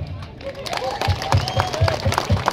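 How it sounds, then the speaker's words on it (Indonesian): Applause from an audience at a public speech, a steady patter of clapping with loud, rhythmic hand claps up close, mixed with crowd murmur. "pertama kita tepuk tangan buat Tuhan"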